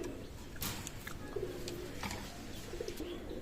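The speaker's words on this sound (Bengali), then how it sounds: "চমৎকার চমৎকার টেডি কবুতর" Teddy pigeons cooing at a pigeon loft, soft repeated low coos close by with faint rustling and brief sharp background noises.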